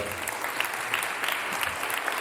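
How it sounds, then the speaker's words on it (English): An audience applauding at an annual Christmas concert, a dense, even patter of many hands clapping throughout, moderately loud and unbroken by talk. "Another round of applause for,"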